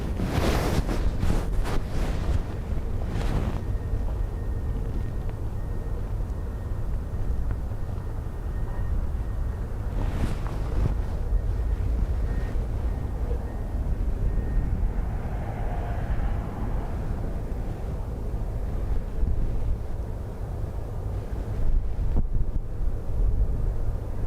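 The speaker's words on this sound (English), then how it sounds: "the wind is very variable on approach" Strong gusty storm wind at Dublin Airport during Storm Bram, a loud continuous roar buffeting the microphone with swelling gusts throughout and no talk.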